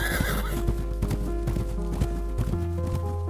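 A horse neighs loudly and whinnies over a quick, steady clip-clop of galloping hooves, a storybook sound effect with close, bright hoofbeats continuing throughout.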